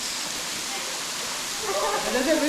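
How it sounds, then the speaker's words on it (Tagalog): Ipa Ipa Falls in Capisan pours as a steady, loud broadband roar of falling water, with a person's voice rising faintly over it near the end. "And this is the waterfall itself, the Ipa Ipa Falls."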